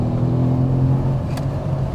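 A Mercedes C63 AMG engine running with a deep low rumble and a steady throaty hum, heard close from inside or beside the car, loud and continuous with a brief higher whoosh near the end.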